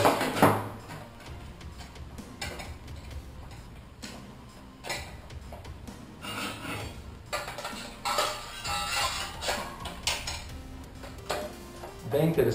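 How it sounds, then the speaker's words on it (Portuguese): Camping cookware pot and metal canteen from a bug-out bag kit being handled, scattered close clinks, taps and rattles of light metal under intermittent talk. "Então aqui você tem panela e o complemento para o sistema de hidratação."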